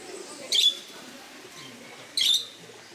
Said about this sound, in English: This bird is posing for the picture.